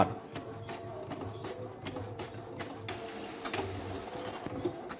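An office printer runs a double-sided print job, whirring steadily with soft repeated ticks and clicks of paper feeding and rollers turning, close by and with nobody speaking.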